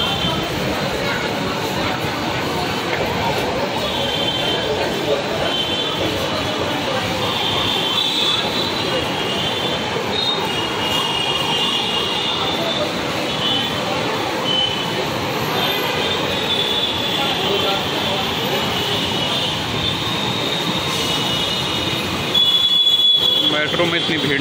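A crowded Delhi Metro train rumbles and hums steadily along the tracks with wheel noise and a high whine, crowd voices murmuring inside the carriage.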